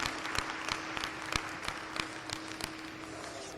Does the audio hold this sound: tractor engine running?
no